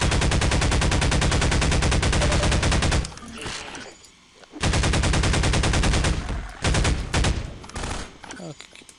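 Rapid gunfire in Half-Life 2, two long loud bursts of fast, evenly spaced shots separated by a short pause, followed by scattered clanks and a few irregular blasts.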